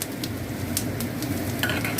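Steady sizzling of a ginger, green chili and garlic paste frying in hot oil, with faint scraping and stirring clicks from a utensil against the pan.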